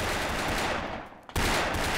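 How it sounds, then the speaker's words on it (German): Gunfire in the video game Brick Force, dense broadband bursts filling the whole clip with a brief dip before a loud burst resumes, no talk over it. "Wow, Schüsse, Schüsse, ich höre Schüsse."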